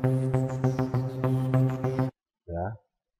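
Nexus synth plugin preset "After Midnight 2" plays a pulsing, rhythmic chord pattern for about two seconds, loud and clear, then stops, followed by a brief short voice.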